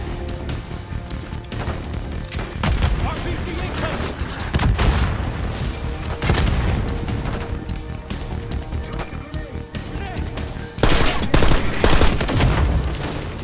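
Combat in Call of Duty: Black Ops 6 with a rocket amid rolling gunfire and heavy booms, dense and loud throughout, and a sharp louder blast near the end, with a voice talking over it.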